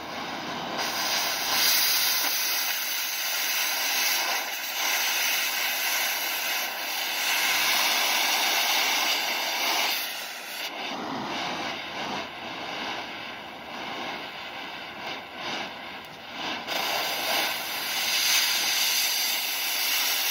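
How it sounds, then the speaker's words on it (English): A cutting torch blowing a hole through metal, a loud, steady, broadband roaring hiss heard close up for a long stretch, with slight shifts in intensity and no talking. "I'll have you practice blowing a hole in the metal"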